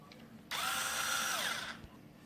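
A Deko cordless screwdriver runs unloaded for about a second, a steady high motor whir that starts abruptly, holds level, then winds down with a falling pitch, close and alone.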